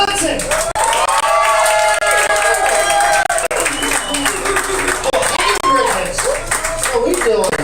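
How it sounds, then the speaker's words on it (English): An audience at a weekly comedy show claps and cheers as a comedian is brought on stage, loud sustained applause with whoops and shouts, and a voice speaks over the crowd noise. "Please put your hands together for Fighting Faces,"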